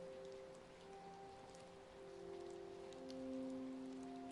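Steady rain falls outdoors on wet streets as a soft, continuous hiss, with a few faint sustained tones running underneath.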